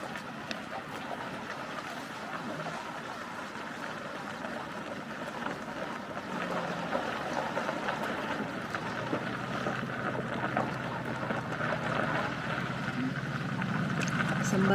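A boat being launched at a lakeside campground: a low engine or motor hum builds steadily alongside wind noise and distant activity, with some voices in the background.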